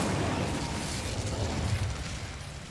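A Bombarda spell explodes in Hogwarts Legacy, a dense, loud rumbling blast with crackling debris that fills the clip and fades slightly toward the end.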